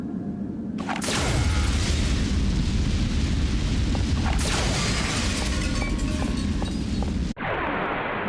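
Grenade launcher blasts in the video game Xenosaga Episode I, a loud, sustained roaring explosion that cuts in sharply, swells, then gives way to a second blast and ends in a hissing, lighter tail.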